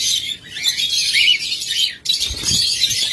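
A mated pair of lovebirds, a hen carrying eggs, chirps in a steady stream of bright high tweets that runs almost the whole time, with a short break in the middle; a low rumble comes in underneath near the end.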